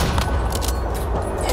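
Gunfire in the survival shooter Once Human, a dense burst of rapid shots over a loud rumbling game soundscape, steady and close throughout.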